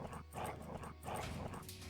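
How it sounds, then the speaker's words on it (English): A dog in the Quasimorph video game trying to get in, giving repeated barks in a quick, uneven rhythm over a dense, noisy background. "Oh, we got a dog trying to get in."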